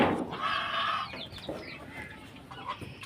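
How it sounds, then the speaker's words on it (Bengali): Ducks on a village farm quack and chatter at close range in short, uneven bursts, with soft background noise and no talk. "এই যে আমার হাঁস।"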